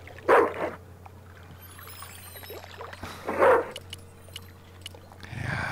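A dog barks in the Broken Sword 2 Remastered video game, two loud separate bark bursts a few seconds apart over a low steady hum, with no talk.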